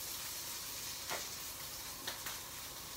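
T-bone steak sizzling in a hot pan, a faint, even hiss of frying fat with a couple of brief crackles and pops, steady and alone with no talking.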